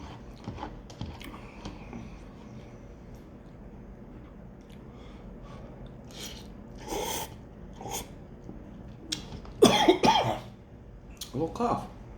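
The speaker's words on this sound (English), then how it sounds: "A little cough." A couple of short, sharp coughs break out near the end, following quiet crunching and chewing of extra spicy Tapatio ramen close to the microphone.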